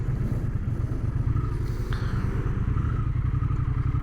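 A 2025 Triumph Speed Twin 1200 RS, a 1200 cc motorcycle, accelerates with a steady, throbbing low engine rumble heard close up for several seconds, with light wind noise.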